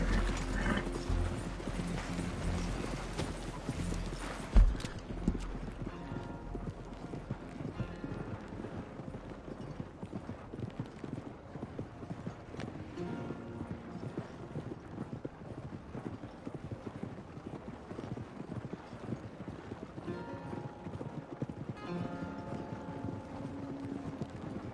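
Horse hooves clip-clopping in the Red Dead Redemption 2 video game, a steady, fairly faint walking rhythm of hoofbeats continuing throughout, with a sharp thump early on and light game ambience underneath.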